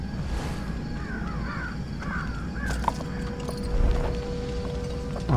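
A bird caws at its nest in the stealth video game Thief, giving several harsh calls over a low ambient game drone, with a few faint mechanical clicks and thumps in between.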